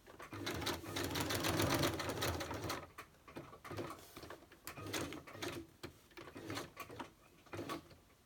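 A sewing machine runs in a rapid mechanical whir, stitching in a long continuous burst, then in shorter stop-and-start runs close by.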